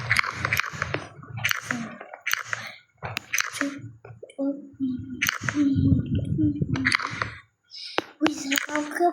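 Crunchy snack bitten and chewed close to the mic, with a string of loud crisp crunches in irregular bursts and a soft voice talking between bites.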